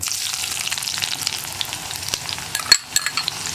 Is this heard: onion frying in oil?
yes